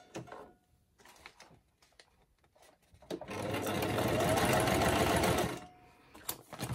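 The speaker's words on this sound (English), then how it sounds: "I'm just going to do a straight stitch here" A sewing machine runs a straight stitch through a paper bag, a close, continuous whirring burst of about two and a half seconds, framed by quiet handling rustles and clicks before and after.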